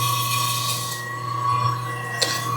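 A meat slicer's thickness setting is being adjusted while slicing pancetta, with a steady motor hum throughout and a single short mechanical click near the end.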